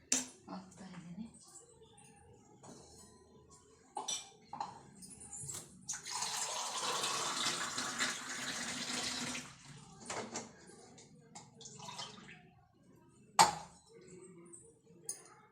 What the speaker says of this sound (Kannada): ಒಂದು ಲೋಟ ನೀರು ಹಾಕ್ತಾಯಿದ್ದೀನಿ ಇದರಲ್ಲಿ.